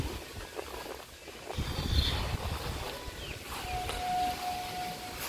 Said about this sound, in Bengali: মেঘলা আকাশ, প্রচণ্ড হাওয়া দিচ্ছে